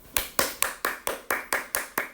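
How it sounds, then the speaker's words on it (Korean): Students in a high school first-year class clap in unison, about nine sharp, evenly spaced claps at a steady brisk rhythm, close and clear with no talking. "박수"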